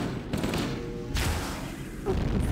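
A charge gun firing in a shooter video game, with a few sharp blasts and rumbling bursts spaced over a couple of seconds, moderately loud amid background noise.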